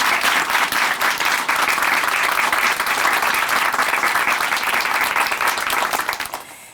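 Sustained applause from a church audience in a Korean Christian broadcast studio, loud and even throughout, fading out at the very end.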